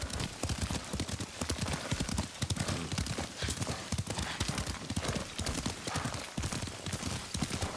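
Rapid, continuous clip-clop of horse hooves galloping during riding in the Ghost of Tsushima video game on PS5, loud and rhythmic throughout.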